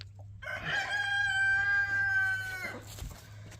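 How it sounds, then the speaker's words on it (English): A single loud rooster crow rings out nearby, drawn out for a couple of seconds over a low steady hum. "now my rooster won't shut up."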